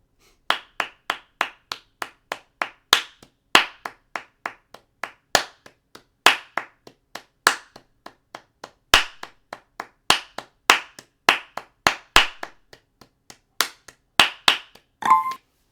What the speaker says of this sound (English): I'm going to clap along with you now